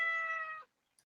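A cat gives a single short, clear meow close by, fading out after about half a second, with no talk over it.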